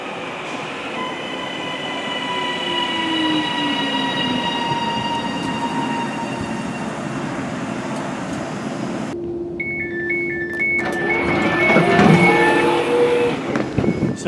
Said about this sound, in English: my train should be arriving now to take us one stop down the line to Bentley